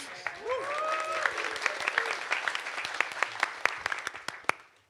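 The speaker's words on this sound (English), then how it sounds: "And everybody cheer." A conference crowd applauds and cheers a badge hacking project at the Supercon 2024 prize ceremony. Dense, steady clapping with sharp individual claps fills the room, and voices rise over it.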